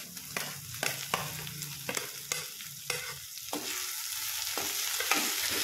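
Chopped eggplant sizzles and fries in a pan with turmeric, broken by repeated stirring scrapes at a steady rhythm, close and moderately loud with no voices.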